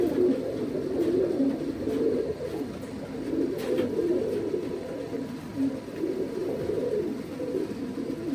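Pigeons cooing in a loft, soft overlapping low coos repeating steadily, fairly quiet with a faint background hum and no talking.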